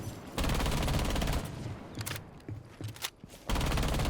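Ela's compensator-fitted gun in Rainbow Six Siege firing long rapid automatic bursts, loud and close, broken by a short pause with a few scattered shots and thuds before the steady stream of fire resumes.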